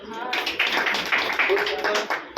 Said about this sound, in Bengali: দিদি ভাইয়ের জন্য একটা ক্ল্যাপিং হোক